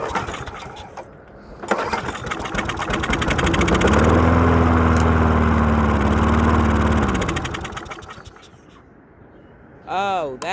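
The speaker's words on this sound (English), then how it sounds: "I'm gonna try to start it and see if she'll run." A free lawn mower under repair, with carburetor cleaner sprayed in, starts after a few pulls, runs loudly and unevenly for several seconds, then dies down; a voice briefly speaks at the end.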